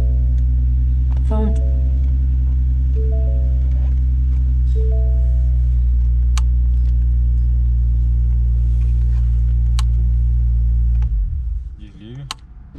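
Power top on a Ford Mustang convertible rising, a steady mechanical whine and hum with sustained tonal drone that runs for about eleven seconds before cutting off, followed by a few brief rustles and clicks.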